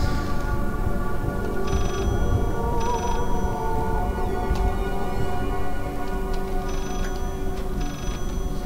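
In the horror video game Layers of Fear, a telephone rings in repeated short bursts over a dense, droning ambient soundscape, moderately loud and spaced about a second apart.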